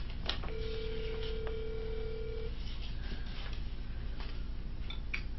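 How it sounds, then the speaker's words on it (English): A telephone rings for an incoming call-in from Atlanta, Georgia, with one long steady tone and a few fainter tones over a constant hiss, and no talking. "If your phone is ringing, we're calling you."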